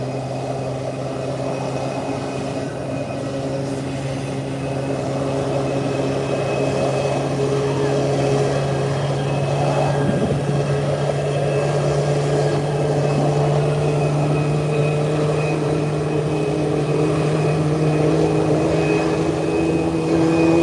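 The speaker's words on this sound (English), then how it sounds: "This aircraft type is an Airbus 321. Coming in from Charlotte." An Airbus A321 arriving from Charlotte at Howard Hamilton International Airport, its engines droning with a steady low hum that swells gradually, heard from the ramp over a constant background rumble.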